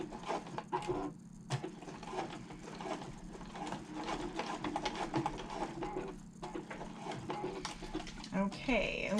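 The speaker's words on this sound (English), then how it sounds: "next we are going to top stitch down the side, across the bottom, and up the other side" A sewing machine runs steadily, topstitching down the side of a zippered wallet, with a continuous buzzing hum that pauses briefly a few times while a person talks over it.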